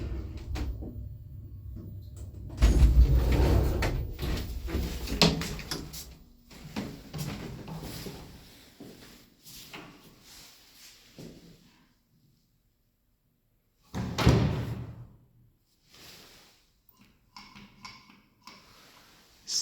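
A vintage Thrige traction elevator door closes in Aarhus, Denmark, with a sliding rumble and clunk early on, then softer mechanical ticks, a brief silence, and a second heavy knock of the door mechanism.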